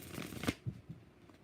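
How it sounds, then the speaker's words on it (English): Tarot cards being shuffled by hand, a quick papery riffle that ends in a couple of soft taps as the deck is squared, close and quiet with no talking. "Four shuffles for Sweet Taboo"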